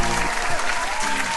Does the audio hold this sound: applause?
yes